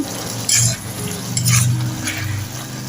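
Mushrooms frying in a pan at close range, a soft sizzle broken by a few stirring scrapes and light clinks of utensil on metal, with no talk.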